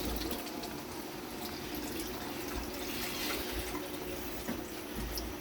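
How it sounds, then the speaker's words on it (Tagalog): Water pours steadily into a pot of braising beef mechado, a soft continuous trickling and splashing that stays even and close throughout. "At maglagay na tayo rito Kaylee ng tubig"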